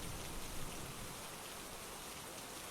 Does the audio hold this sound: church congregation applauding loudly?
no